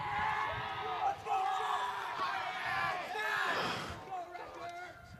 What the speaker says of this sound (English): Crowd getting a little rowdy now.